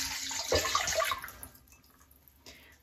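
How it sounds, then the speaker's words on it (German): Water is poured into a mixing bowl for sourdough bread dough: a close, splashing gush for about a second and a half that fades to quiet trickles, with a brief final splash. "als erstes kommt einmal das Wasser in die Schüssel"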